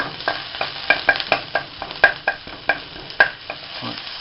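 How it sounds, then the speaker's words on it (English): Wooden spoon stirring onions in a non-stick pan, a steady run of scraping strokes with soft sizzling underneath, close and fairly loud with no voices. "now give them a stir round"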